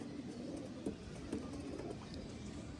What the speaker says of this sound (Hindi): ये कबूतर है बाजारी फ़कीर गुल कबूतर है दोस्तों